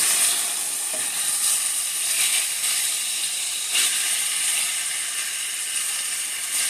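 Spare rib tips fry in a pan with a steady, close crackling sizzle and hiss that runs throughout, swelling briefly in places as the meat is moved.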